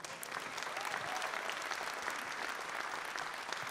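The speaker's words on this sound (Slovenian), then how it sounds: "Pa prosim, en aplavz za harmonikašico, za našo Evo." An audience gives a round of applause to an accordion player, steady dense clapping of moderate loudness heard from a distance, with no one speaking over it.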